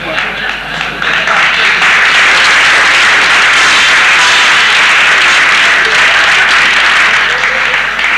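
Dense, sustained audience clapping fills a Pashto comedy show in Quetta, loud and steady from start to finish with faint voices mixed underneath.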